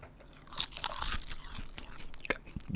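Crunchy old, out-of-date dried seaweed being bitten and chewed close up, a quick run of crisp crackling bites followed by softer crunching, with no talk.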